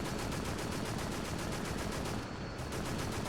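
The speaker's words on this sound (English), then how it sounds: "It's like helicopter noise or gunfire noise." Rapid, loud automatic gunfire in the PS2 game Extermination, a dense unbroken stream of shots with a brief dip near the end.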